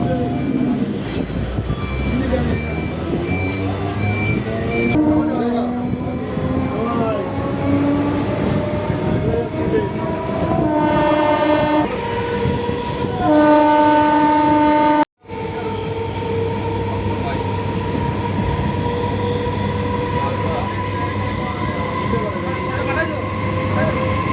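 A crowded early-morning commuter train rumbles past close by, steady and loud, with a horn sounding partway through and a brief sharp break near the middle; voices murmur underneath.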